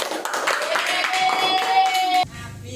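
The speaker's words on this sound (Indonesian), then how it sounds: "tepuk tangan buat kelompok 3" A classroom of students claps for a group in an Islamic studies lesson, a dense burst of hand claps lasting about two seconds that stops abruptly, with voices mixed in.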